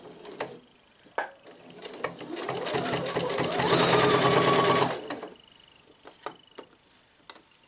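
A sewing machine stitches the bottom hem of an elastic summer dress, a steady whirring run of a few seconds rising in loudness, framed by soft clicks and handling noises before and after.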